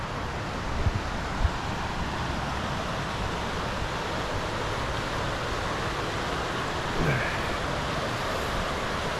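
Steady broadband rushing of the Thredbo River, even and continuous, heard from a short distance in the NSW High Country, with faint wind and no talking.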